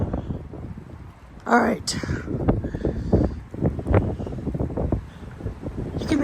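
Strong gusts of about 40 mph batter windows in Plano, Texas, a rough, rushing roar running under someone talking.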